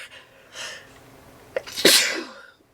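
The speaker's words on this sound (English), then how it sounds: "I have to sneeze again" A single loud, close sneeze preceded by a couple of sharp inhales, ending in near silence.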